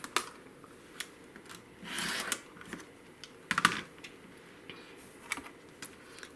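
A rotary cutter trims the edge of quilt fabric on a cutting mat, giving sharp, quiet clicks and brief scraping strokes in irregular bursts, close up and with no talking.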